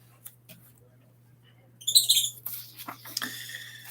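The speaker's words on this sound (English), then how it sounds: "I apologize for the chirping in the background." Small pet birds, caged and covered, chirp and squawk in short, bright bursts nearby, starting after a quiet stretch and over a low steady hum.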